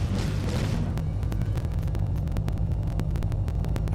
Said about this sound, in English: Now we get to just watch the beautiful explosion.